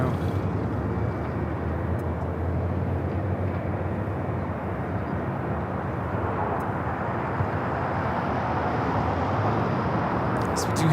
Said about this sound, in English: So we do have the Korean Air Flight 11, the 747-8s now flying on the downwind leg.